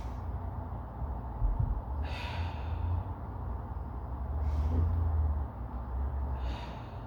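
A person taking slow deep breaths during a health assessment, three breathy inhales spaced a couple of seconds apart over a low background hum, close and quiet with no speech.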